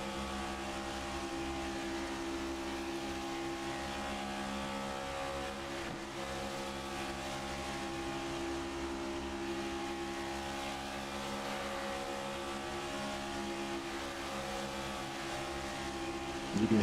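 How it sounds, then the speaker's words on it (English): Sim racing video game race car engines drone steadily at a distance, a continuous high buzzing roar that stays fairly even throughout, with slight shifts in pitch as they ease off the throttle. "You can hear them easing out of that throttle as that car gets a little extra suction"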